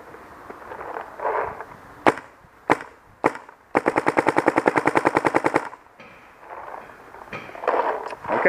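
A paintball gun fires through a Shift barrel: three sharp single shots, then a rapid, evenly spaced burst of around twenty pops, then a few more scattered shots, all close and without talk.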